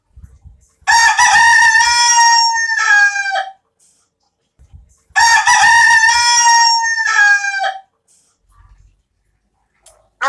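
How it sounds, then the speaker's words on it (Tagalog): A rooster named Minos crows loudly and close, two long full cock-a-doodle-doo calls separated by a pause, with faint clucking between them. "pakinggan nyo po ang tiktalaok ng aking manok na si Minos"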